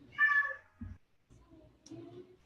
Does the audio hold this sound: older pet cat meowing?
yes